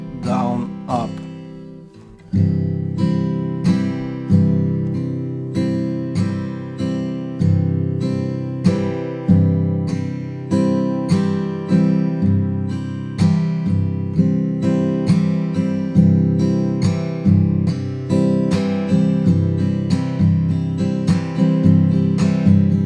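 Guitar played with a thumb-and-fingers strumming pattern, a steady rhythmic run of bright plucked chords ringing out clearly and alone after a short pause at the start.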